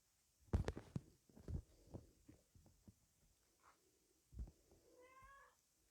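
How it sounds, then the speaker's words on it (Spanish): A pet cat meows indoors, a couple of short, fairly faint mewing calls near the end after some soft thumps and handling noises in a quiet room. "Además de mi gata Ima que está acá conmigo"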